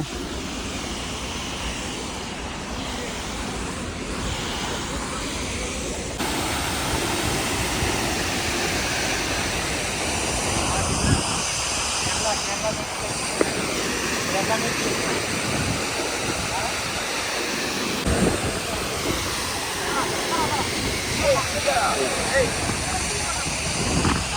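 Athirapally Waterfalls roaring as a continuous broadband rush of falling water, loud and steady throughout, with people talking over it at times.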